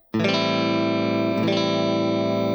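A distorted electric guitar plays a four-note minor seventh chord, struck and ringing out sustained, then struck again midway and keeps ringing with a thick, buzzy tone.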